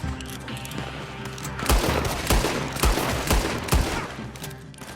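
A rapid exchange of gunfire in a Red Dead Online team shootout, several loud close shots fired in quick bursts with booming low thumps, some more distant pops and a steady ambient bed behind, no talk.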